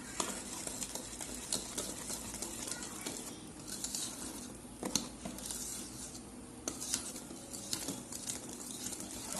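A spoon stirs flour into cake batter in a bowl, making soft, wet, irregular scraping and patting sounds at close range, with no talking.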